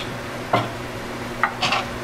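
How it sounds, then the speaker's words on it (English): A spoon stirs demi-glace into Steak Diane pan sauce, giving a few short scraping clinks against the pan over a faint, steady sizzle. "I'm going to stir all that together, get that combined."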